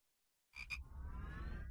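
A frog in the PlayStation 2 video game Casper Spirit Dimensions croaks in two quick bursts that give way to a sustained warbling tone after near silence. No one speaks.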